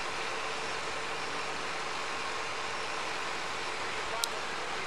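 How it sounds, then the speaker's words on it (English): A Triton 1500 air-start diesel engine runs with a steady, even roar and low rumble, close and unbroken, with one brief sharp click near the end. "Then start the engine with the starter handle."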